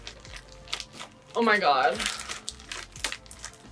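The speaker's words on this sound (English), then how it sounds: "Opening packages." Packaging crinkles as packages are opened, a brief burst of plastic rustling and crumpling in the middle, close and fairly loud, with scattered handling noises around it and a person speaking.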